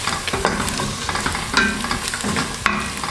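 A spoon stirs and turns browning food in a hot pan for Kenyan pilau, with steady sizzling and periodic scraping strokes, close and fairly loud, no voice.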